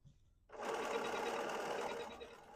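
A Bernina 770 QE PRO sewing machine starts up and runs steadily at speed through a pattern stitch, a close, continuous whirring drone after a brief quiet lead-in.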